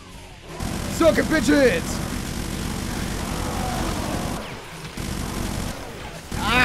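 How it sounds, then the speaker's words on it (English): A rapid chain gun fires in the violent shooter game Brutal Doom, a dense continuous rattle of shots running for several seconds with a short break, while someone shouts over it and game music plays underneath. "Chain gun time!"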